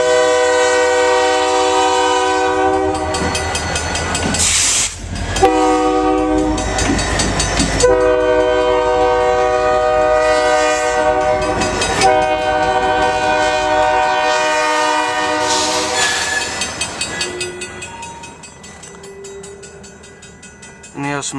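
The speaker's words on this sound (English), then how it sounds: "there's the eastbound freight train" An eastbound freight train of covered hoppers rolls past up close, its loud multi-tone horn sounding in long blasts over the steady rumble and clatter of cars.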